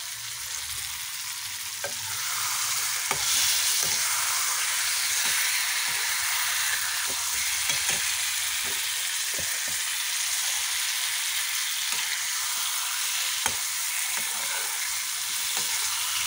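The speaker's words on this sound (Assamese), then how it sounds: "এনেকৈ মাছখিনি অকণমান সময় ভাজি ল'ম" Raw shol (snakehead) fish frying in spice masala in a pan for an Assamese winter curry, giving a steady close sizzle and hiss with occasional sharper pops and stirring scrapes, no talking.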